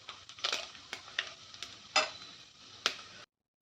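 Prawn chingri mola curry being scooped from a cooking pan into a serving dish, with a few scraping clinks of a spatula against the pan over a soft residual sizzle, close and fairly quiet, no talking.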